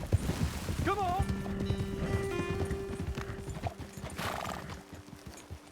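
Horses galloping in Red Dead Redemption 2, a steady rapid clip-clop of hooves throughout, with a clear whinny near the start, under a busy game soundscape and some voice.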